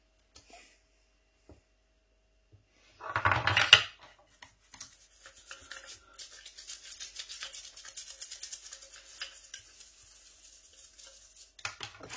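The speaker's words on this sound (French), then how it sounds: "j'ai une brosse à dents et un fond de nettoyant" A brief burst of toothbrush scrubbing with cleaner, then a steady soft scratchy rubbing that continues quietly for several seconds, close by, while cleaning a motorcycle selector.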